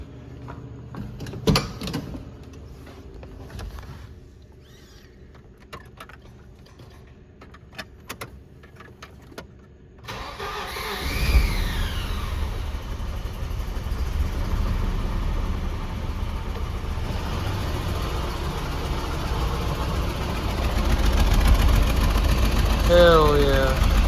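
Volvo 240 wagon fitted with an aftermarket eBay exhaust, heard first as faint clicks and clatter, then the engine catches and settles into a steady, loud idle rumble that grows heavier near the end.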